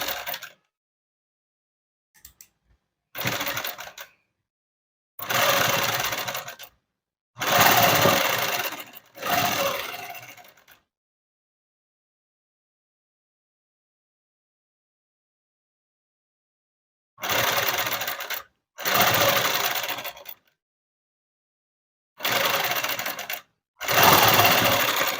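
A sewing machine stitches a dress made from an old saree, whirring in several short bursts of a second or two, separated by silences, including one long pause midway. The machine is close and fairly loud.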